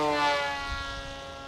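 An FT22 RC airplane flies with its propeller spinning, giving a steady, tonal buzzing whine that holds fairly constant and fades slightly.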